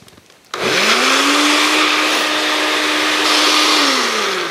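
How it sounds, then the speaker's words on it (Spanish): Loud blender motor starting abruptly and whirring steadily as it purées roasted bell pepper, a sustained high whine that holds with a slight pitch shift near the end. "Esto lo licuamos."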